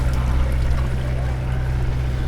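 Large hired bangka boat on the water, a steady low engine drone with wind and water rush running continuously close by.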